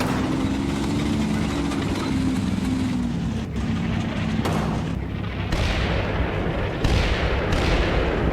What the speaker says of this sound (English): And the artillery is falling. Some nice direct hits on the buildings as well.